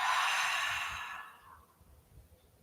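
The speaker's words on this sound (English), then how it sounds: "I breathe out, let it go." A close, loud exhale of breath during a yoga session, a long airy sigh that fades away over about a second and a half into quiet.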